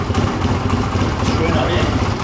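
A cold Honda CB 250 Two Fifty motorcycle engine runs steadily with a dense, continuous low rumble, close and loud, as if just started and settling into idle, with a voice talking over it.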